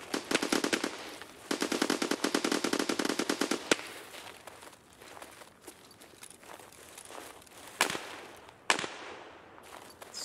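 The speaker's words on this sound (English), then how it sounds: "Sounds like a full auto weapon." Full-auto weapon fire in Escape from Tarkov comes in two sustained rapid bursts, loud and close, then scattered single shots and softer distant pops with some shuffling movement.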